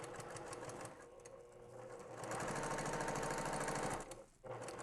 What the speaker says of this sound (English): Back stitch to secure.